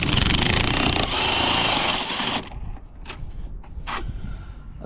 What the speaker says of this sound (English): we'll take the top mount off now, which is literally just taking this bolt off